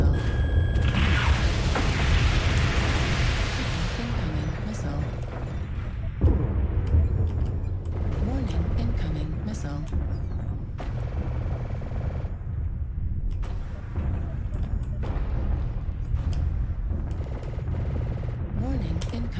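Missile impacts and mechanical booms sound in a MechWarrior Online battle between Warhammer mechs, with a heavy rumble and scattered thuds under a cockpit voice and ongoing machinery noise.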